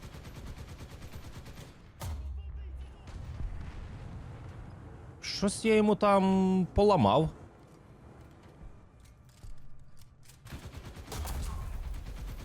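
Bursts of heavy DShK machine gun fire in War Thunder crackle and thud in a short volley, with someone talking before and after.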